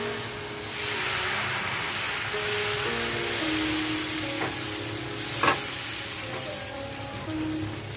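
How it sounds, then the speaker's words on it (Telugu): Jaggery dosa batter sizzles steadily on a hot pan, a continuous close frying hiss with a few small pops and scrapes, no voices. "ఇప్పుడు బెల్లం దోశ వేస్తున్నాను."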